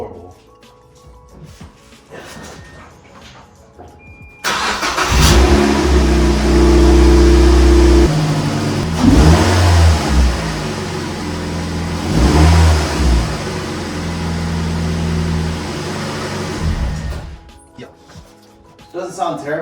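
A Mazda Miata NC1 engine cranks and catches, then idles loudly with several rising revs and falling back, settling before shutting off; nearby voices are faint around it.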